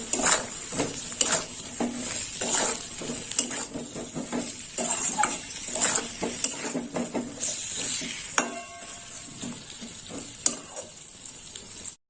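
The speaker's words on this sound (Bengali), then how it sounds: "দিয়ে দিলাম টমেটো দেওয়ার পরে আমি একটু কষে নেব" Chopped tomatoes sautéing in a pan for a quick vegetarian curry, with steady sizzling and frying under repeated scrapes and clinks of a spoon stirring against the pan, loud and close throughout.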